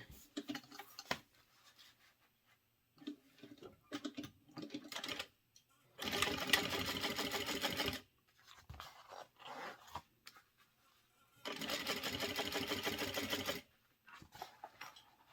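A sewing machine stitches fabric in two steady bursts of about two seconds each, separated by quieter handling and shuffling noises.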